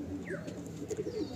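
A Kalsira pigeon in a loft gives a brief run of soft, low throaty coos close by, with a faint higher chirp in the background.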